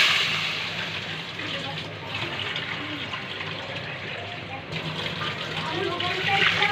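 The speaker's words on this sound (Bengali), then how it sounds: "পানি দিয়ে দিব।" Water poured into a pan of poa fish curry where ginger, garlic and salt have been sautéed gives a steady, close splashing rush that runs throughout, with a voice talking over it.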